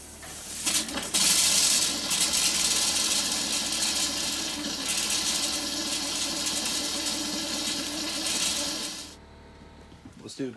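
An RV toilet flushes during winterizing, a loud rushing gush of water running for about eight seconds, then stopping abruptly with small clunks after.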